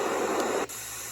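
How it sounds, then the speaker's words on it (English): Pink noise from a Magic Team white noise machine, a steady hiss that runs evenly and then abruptly shifts to a thinner, quieter static partway through, with no voices. "This setting is called pink noise."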